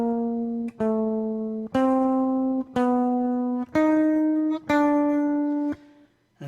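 Electric guitar playing a four-finger metronome exercise pattern: six evenly spaced single notes stepping through the pattern across two strings, clear and close with no talking.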